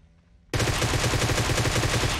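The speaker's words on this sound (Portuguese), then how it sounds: "Vou atirar com a Groza." A Groza assault rifle firing in PUBG Mobile, a loud, close, rapid automatic burst that starts abruptly and continues to the end without pause.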